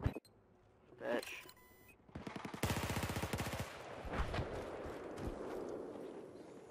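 Gunfire in the video game Battlefield 4: a rapid automatic burst with sharp repeated cracks, earlier scattered single shots and distant battle noise, with players talking over the action.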